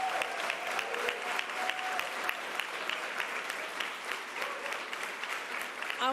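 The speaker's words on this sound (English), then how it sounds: "Let's give him a round of applause." A roomful of people applauds at a government bill-signing event, brisk dense clapping with some individual claps standing out, steady and fairly close, with a few faint voices mixed in.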